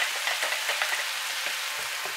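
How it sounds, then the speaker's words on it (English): Cornflour mix is stirred into a sizzling chicken chow mein stir fry, giving a dense, even hiss with soft, rhythmic stirring scrapes underneath and no speech. "keep mixing it until it just thickens a little bit"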